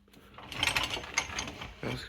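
Cutlery tray of an integrated Bosch Series 4 dishwasher sliding along its rails, a close rattling, clicking run of about two seconds ending in a short thud.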